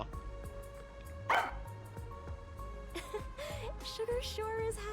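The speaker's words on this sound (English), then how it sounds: "The raincoat dog, Sugar. And the incredibly loud bark." Sugar, the raincoat-wearing dog from Master Detective Archives: Rain Code, lets out a loud bark in the middle of game music, followed by several shorter yips and game sound effects.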